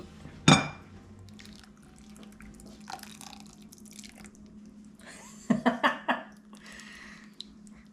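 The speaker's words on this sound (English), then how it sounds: "we'll dump the liquid into these bowls" Cioppino seafood broth is poured into bowls, heard as brief liquid splashes and drips with scattered clinks and handling noises, nearby and fairly quiet.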